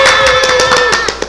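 A small group claps together for a few seconds during a children's church Bible school session, the sharp hits sounding over a steady sustained tone.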